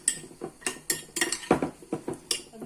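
A spoon scrapes and clinks against a bowl while steamed beans are mixed with salt, giving a run of rhythmic close knocks and scrapes about every quarter second, quiet and without speech.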